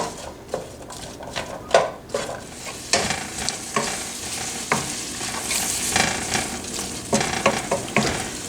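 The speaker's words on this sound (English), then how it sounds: "I want to cook the celery and the onion till they're just a little bit translucent and soft." Celery and onion cooking in melting butter in a pan on the stove, a bright steady sizzle broken by repeated spoon scrapes and clinks against the pan, close up with no talking.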